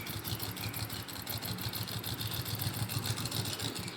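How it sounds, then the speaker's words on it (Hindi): Domestic sewing machine running a straight seam down to the bottom edge of a men's cotton underwear piece, a steady fast mechanical whir with rapid needle ticking, continuous and close with no talk. "इस सिलाई को हम बिल्कुल नीचे तक लाएंगे"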